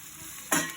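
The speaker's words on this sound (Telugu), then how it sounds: "కట్ చేసుకున్న ఉల్లిపాయలు, పచ్చిమిరపకాయలు ఇందులో వేయాలి" Chopped onions and green chillies hit hot oil in a pan, with a burst of loud sizzling starting about halfway through after a quieter stretch of low pan hiss.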